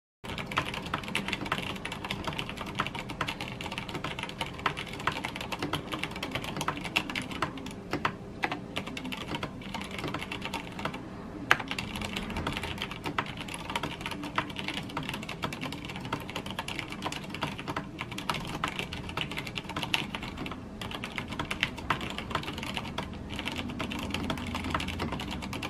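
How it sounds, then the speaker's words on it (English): Steady, continuous typing on an iKBC CD108 V2 tactile mechanical keyboard, with quick clacky keystrokes in an uneven rhythm, close and fairly loud throughout with no talking. "here's what the keyboard sounds like."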